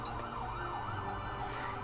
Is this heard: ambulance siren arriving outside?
yes